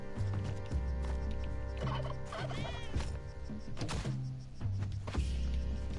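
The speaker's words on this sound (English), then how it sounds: "Oh, there's another turkey as well." Turkeys in Spelunky 2 gobble in short burbling bursts, several calls scattered through the stretch, set against steady looping game music and a few thumps.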